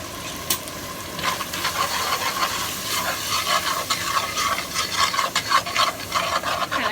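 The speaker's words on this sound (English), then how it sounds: "you're going to actually want to saute them again on your stove top for about 30 seconds" Whole spices being stirred and sautéed in a hot pan on a stovetop: steady sizzling with repeated scraping strokes of the spoon, close and fairly loud, with no talking.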